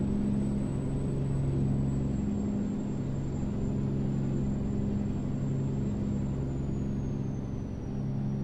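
A Kenworth K200 truck engine in American Truck Simulator cruising at 65 mph, about 1300 RPM in 17th gear, a steady low droning rumble with a faint high whine, constant and unbroken.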